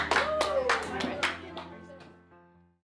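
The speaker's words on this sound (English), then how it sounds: "Everybody clap for Kazuya and Jennifer and yourselves." A small group claps briefly for Kazuya and Jennifer in a room, a few quick overlapping hand claps that fade out within about two seconds, with a faint voice underneath.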